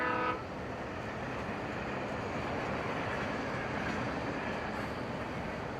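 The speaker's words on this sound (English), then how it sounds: "Train." Train passing in the game Alan Wake Remastered, a steady dense rumble of rolling wheels, opening with a short horn-like tone that fades into continuous rushing noise.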